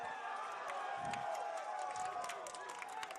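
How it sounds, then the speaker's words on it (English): Home crowd at a Golden Valley high school football game roars steadily, cheering its defense on under a sustained wash of voices and a few brief shouts, with a commentator's voice mixed in. "Golden Valley crowd trying to get into it"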